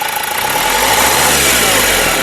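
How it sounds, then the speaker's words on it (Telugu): A 2013 Renault Duster RXZ engine is revved hard nearby, holding a loud, steady, rising roar throughout with no speech over it. "మళ్ళొకసారి ఇంజిన్ యొక్క నాయిస్ చాలా పర్ఫెక్ట్గా అయితే ఉందండి ఎటువంటి హెవీ నాయిస్ అయితే రావట్లేదు"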